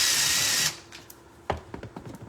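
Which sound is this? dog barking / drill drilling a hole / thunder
drill drilling a hole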